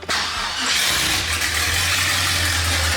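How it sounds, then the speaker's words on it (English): An LS-swapped Mustang with a 4L80E transmission cranks briefly, catches and settles into a loud, close, steady low idle rumble; no talk. "Go ahead and start it up"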